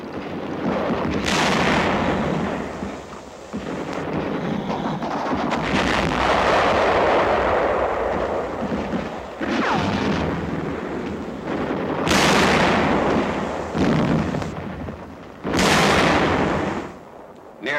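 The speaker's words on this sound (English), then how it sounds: "Tank suffers a direct hit, and the crew leaps from the flames." Wartime combat with shells striking and exploding around a tank: a steady din of heavy blasts and booming artillery fire, loud and repeated, with sharp explosive bursts recurring throughout.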